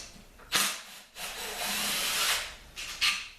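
An impact wrench works on the clutch cover bolts of a dirt bike, giving bursts of whirring and rattling hammer action, a short burst, a longer sustained run, then two quick bursts, close and loud.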